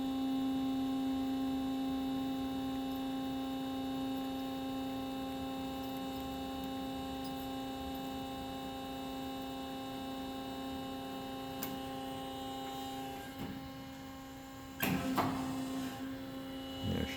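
The hydraulic pump of an Amada HK800 machine running, a steady tonal electrical-sounding hum with a few mechanical clunks and knocks toward the end.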